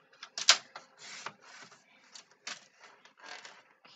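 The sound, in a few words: trimming scrapbook paper with a paper cutter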